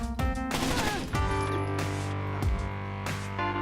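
Gunfire in the video game Terrorist Hunt: a series of sharp, loud shots and bursts at uneven intervals, ringing over steady tonal game music with no voices.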